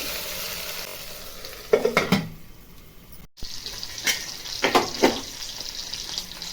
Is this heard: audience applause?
no